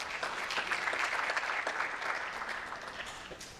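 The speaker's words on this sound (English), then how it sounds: "give a round of applause for your parents" At a school signing day for student athletes, the audience gives a round of applause for the parents, a steady, dense wash of clapping from a crowd heard at a moderate distance, fading slightly toward the end.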